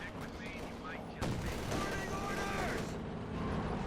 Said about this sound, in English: There's a light machine gun again holding up the trench there.